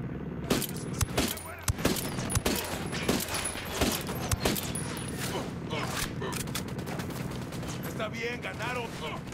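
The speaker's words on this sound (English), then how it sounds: "Opening fire." Rapid gunfire crackles through a firefight in Ghost Recon Wildlands, loud bursts of shots and automatic fire repeating in quick irregular volleys under occasional voices.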